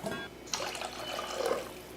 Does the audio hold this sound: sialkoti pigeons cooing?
no